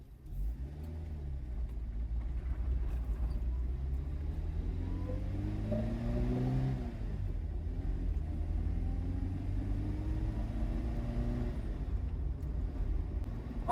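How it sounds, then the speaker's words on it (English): A 1983 Seat Panda Terra engine hums while driving on the road, pitch climbing through gears with a couple of smooth upshifts, accompanied by steady road rumble; no talking. "Let's get it out on the road and see what it's like to drive."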